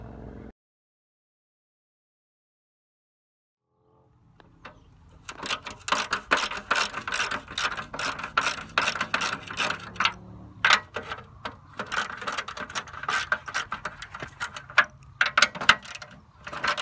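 A ratchet driver removing small quarter-inch screws from a lawn mower carburetor cover, giving dense, rapid clicking of the ratchet pawl in close, busy bursts after a few seconds of silence.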